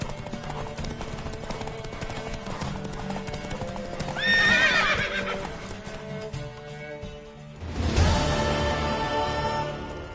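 Rhythmic clip-clop of horse hooves continues throughout, with a horse neighing midway, over a busy soundscape and background music in the video game The Witcher 3.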